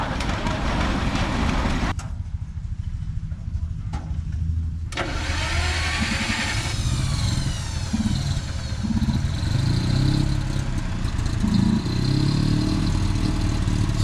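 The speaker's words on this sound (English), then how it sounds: "That's the pony motor starting. Got a little gas V4 pony motor." A small gas V4 pony motor on a John Deere 820 diesel tractor at an antique engine show cranks briefly, then catches and runs with a loud, rough, steady mechanical chatter, and voices are faintly audible around it.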